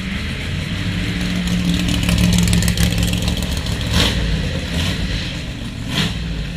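A loud sports car engine roars steadily at the Goodwood Festival of Speed, swelling as it revs, with a couple of sharper bursts near the end; no voices.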